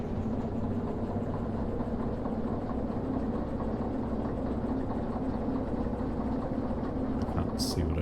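A train engine in a railway video game runs with a steady, continuous low rumble and hum throughout, with a short higher click near the end.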